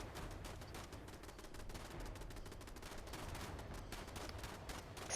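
Automated turrets fire in Fallout 76, a dense stream of rapid gunfire bursts rattling on steadily with no talk over them.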